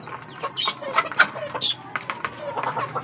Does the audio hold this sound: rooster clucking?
yes